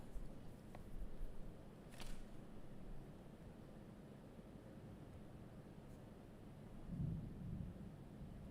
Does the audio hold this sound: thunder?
yes